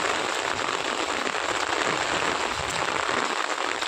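Heavy rain falls steadily over waterlogged farm fields in Banaskantha in cold, gusty wind, a dense, even hiss of drops that holds unbroken and fairly loud throughout.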